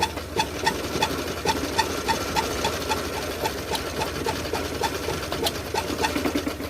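A sewing machine runs a zigzag stitch along the border of a saree, giving a steady rapid rhythmic clatter of needle strokes, close and fairly loud, with no voice over it.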